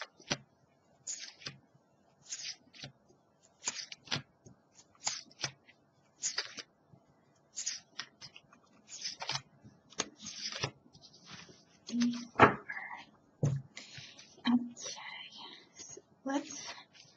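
Tarot cards from an After Tarot deck being handled and shuffled on a small table, a run of soft, quick riffling bursts at an even rhythm, close and quiet, with brief low murmured talk toward the end.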